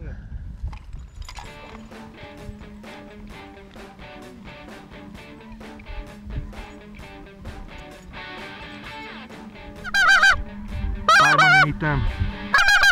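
A huge flock of geese, tens of thousands resting on a Manitoba slough, honks in a dense continuous chorus that swells louder near the end, with someone talking over it.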